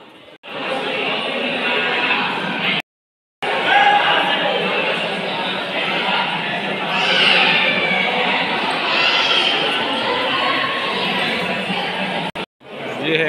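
Dense crowd murmur fills the grand Rameswaram temple grounds, many voices blending into a steady, close hubbub that runs on with a brief drop partway, one nearby voice rising above the din at moments.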